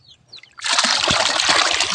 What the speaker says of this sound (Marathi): मी आता इथं शेळ्याला गंगाळ्यात पाणी टाकायले आहे